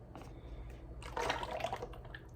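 Liquid is poured out of containers holding about 2,000 grams each, with a light trickle that swells into a fuller splashing pour partway through, close by and with no voices.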